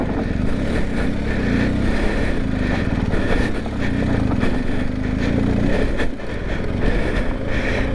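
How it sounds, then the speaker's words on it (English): A BMW GSA motorcycle revving hard off-road in a jungle as its rear tyre spins, the engine loud and close, holding a sustained high, ragged drone with small surges and one brief dip near the end. "गाड़ी एकदम से ज़्यादा थ्रोटल ले रही है, तो पीछे वाला टायर स्पिन होकर बाहर निकल जा रहा है।"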